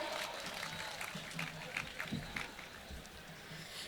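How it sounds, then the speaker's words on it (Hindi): An audience at a mushaira in Darbhanga, Bihar claps to welcome a poet, a steady wash of crowd applause at moderate volume with murmuring voices mixed in. "एक बार जोरदार तालियों से स्वागत करें।"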